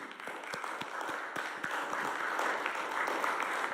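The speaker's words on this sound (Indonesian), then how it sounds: "Sekali lagi kita berikan tepuk tangan yang meriah." A crowd at the inauguration of the Forel and Terubuk oil fields in Indonesia applauds. The clapping is dense and continuous, with crisp individual claps that rise slightly in strength toward the end.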